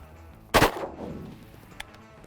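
A single shotgun blast rings out during a duck hunt for wigeon over a wheat field, loud and sharp with a short rolling tail, followed by a faint distant pop and quiet outdoor background.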